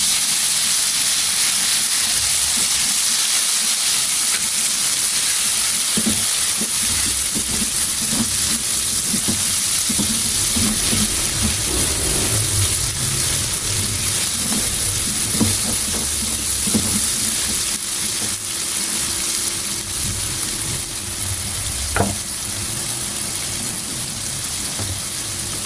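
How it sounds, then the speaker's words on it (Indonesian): Blended spice paste with turmeric sautés in a pan on the stove, giving a steady, loud sizzling hiss throughout with occasional soft clinks and stirring sounds and no talking. "Tumiskan sampai benar-benar matang."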